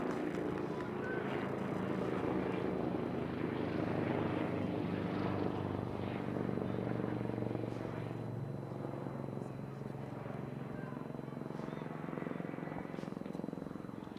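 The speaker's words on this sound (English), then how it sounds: "Helicopter flying low above us and into the New York helipad." A helicopter flies low overhead toward a New York helipad during a college baseball game, St Mary vs DePaul, giving a steady, loud rumbling drone that holds for the whole stretch, with faint background voices.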